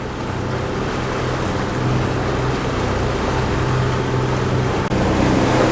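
Both engines of a Lagoon 380 catamaran run at cruising speed, around 2,200 rpm, at sea between Italy and Albania, giving a steady low droning hum with wash and wind noise, continuous and fairly loud throughout.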